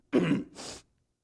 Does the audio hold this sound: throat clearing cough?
yes